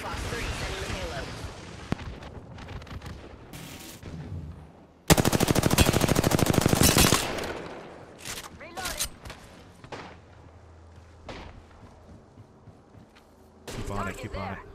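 Video game gunfire: scattered single shots, then a loud sustained automatic burst for about two seconds, followed by more distant shots and a final loud burst, with voices talking in between.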